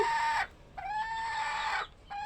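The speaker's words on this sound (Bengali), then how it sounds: "দেখেন মুরগি যে একটা কুচে বসে আছে" A hen clucks up close in a few drawn-out, tonal calls separated by short pauses, on a poultry farm where a hen sits on eggs.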